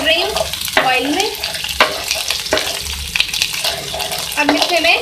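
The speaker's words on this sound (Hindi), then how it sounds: "देखिए, मैं अदरक लहसुन को फ्राई कर रही हूँ ऑयल में" Ginger and garlic fry in hot oil with a steady sizzle, broken by repeated scraping stirs. A voice talks over the cooking.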